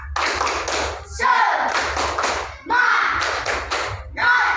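Schoolchildren in a classroom perform a rhythmic clapping routine called tepuk semangat, bursts of group claps separated by short gaps, close and loud, with voices chanting along.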